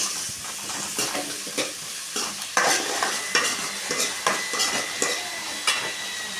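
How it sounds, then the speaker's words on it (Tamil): Chopped onions fry in hot oil in a pan, a steady sizzle broken by repeated sharp scrapes and clinks of a spoon stirring against the metal, close and fairly quiet, with no voices. "நல்ல வெங்காயத்தை நம்ம கிண்டிக்கலாம்."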